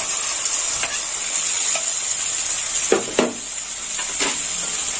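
Onion paste and chopped onion frying in hot oil, steady sizzle throughout with a few close, louder scrapes of a spoon stirring in the pan.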